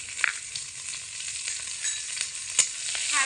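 Garlic and chopped green chilies fry in hot oil with a steady bright sizzle, broken by occasional scraping stir strokes and small pops.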